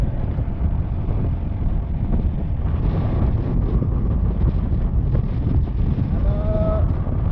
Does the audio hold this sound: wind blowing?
yes